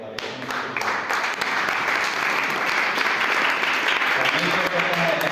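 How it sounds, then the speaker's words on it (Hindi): An audience at a church meeting in Panvel bursts into loud, sustained applause, dense clapping rising quickly and holding steady throughout without letting up. "जोर से तालियां हो जाए।"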